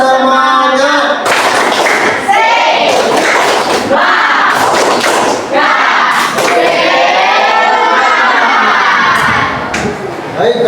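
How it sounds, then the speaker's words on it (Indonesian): A school class performs a rhythmic spirit clap led by a teacher, with bursts of group clapping, thumps and children's chanted shouts in a fast patterned sequence, loud and close. "Mari kita tepuk semangat."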